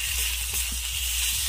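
Ginger paste and garlic sizzle in a pan with browned fried onions, a steady close hiss holding without a break.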